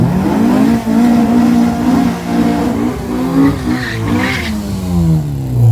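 Race cars, including an ITB 16v Mk1 and a Mach 1, roar loudly at a track race, rising and falling in pitch as they rev and accelerate, with harmonic whine and a hint of tire noise.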